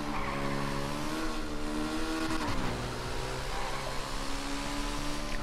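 A motorcycle races at high speed in the video game GTA, its engine revving loudly and continuously with a brief pitch dip midway, close and unbroken with no talking.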